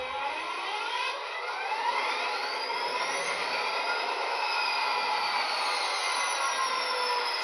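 An Athearn SD40-2 model locomotive strains along a dirty test track, giving a steady, continuous whine with rising and falling gliding tones and a constant high-pitched hum, close and alone without any talk.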